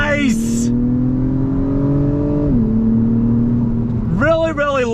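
A 2021 Acura TLX Type S sport sedan accelerates from a standstill in Sport Plus mode with automatic shifting. The engine note climbs steadily, dips at an upshift and rises again. A brief voice is heard at the start and the end.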